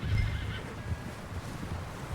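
A horse in a video game gives a clear whinny and neigh over galloping hoofbeats, loud and close, with no talk.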